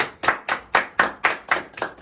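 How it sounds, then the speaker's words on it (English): Hand clapping in a slow, even rhythm, about eight sharp claps spaced roughly a quarter second apart, close and clear with no talk. "Let's clap."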